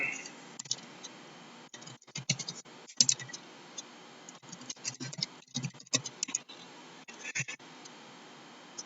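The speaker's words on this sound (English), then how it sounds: "Trying to type and talk" Computer keyboard being typed on, quiet irregular bursts of clicky keystrokes with short pauses, close by and fairly faint against a steady background hiss.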